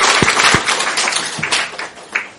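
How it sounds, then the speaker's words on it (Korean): A church congregation claps together at a Sunday service, a loud, full wash of applause with a few sharp individual claps standing out near the start, steady throughout. "함께 한번 박수로 하나님께 영광을 돌리겠습니다"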